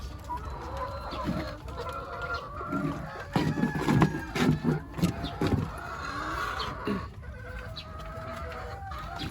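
Chickens cluck and murmur nearby, a steady flock chatter with louder bursts in the middle, over a faint outdoor background.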